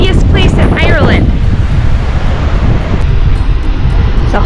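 Loud, gusting wind buffets the microphone in a constant roar at the Giant's Causeway on the Irish coast, with a brief voice near the start and surf-like noise underneath.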